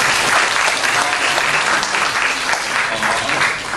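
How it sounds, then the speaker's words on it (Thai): An audience at a seminar or film event claps for three speakers in a loud, dense, sustained burst of applause that holds steady throughout. "ขอเสียงปรบมือให้กับวิทยากรทั้งสามท่าน"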